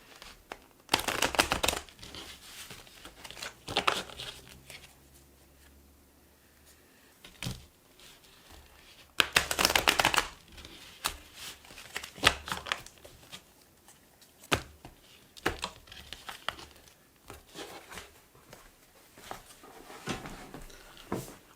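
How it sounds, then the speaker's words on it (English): Tarot and oracle cards being shuffled by hand, soft papery riffles and crinkly bursts coming in several separate spurts with quiet gaps between, faint and close. "let me shuffle on the side a couple times just to kind of warm the cards up"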